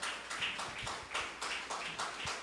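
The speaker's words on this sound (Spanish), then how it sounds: "Dale palmas fuertes al Señor de la gloria" A church congregation claps hands in praise, a steady rhythm of roughly eight sharp claps over a constant background wash, fairly close and moderately loud, with no talking.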